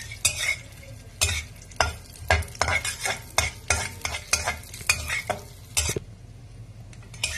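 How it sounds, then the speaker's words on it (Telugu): Cashews roast in ghee in a pan while a spoon stirs and scrapes in quick repeated strokes, with a soft sizzle underneath and sharp metallic clinks throughout. "ఇప్పుడు 2 స్పూన్లు నెయ్యి వేసుకొని ఈ జీడిపప్పు కూడా వేసి బ్రౌన్ కలర్ వచ్చే వరకు వేపుకోవాలండి"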